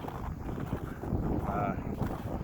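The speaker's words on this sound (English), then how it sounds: "wind's hitting me right in the face right now" Strong wind on a winter mountain summit above 12,000 feet in Colorado buffets the microphone with a constant, rough roar, while a voice talks faintly under it.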